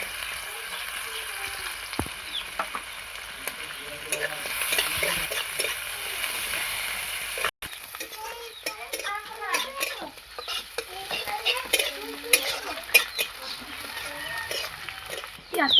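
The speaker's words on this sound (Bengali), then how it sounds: "পেঁয়াজটা ভাজা হয়ে গেছে" Chopped onion fries in hot oil in a wok, with sugar and dried red chilli already in the pan, producing a steady sizzle and frequent stirring scrapes while a voice talks intermittently over it.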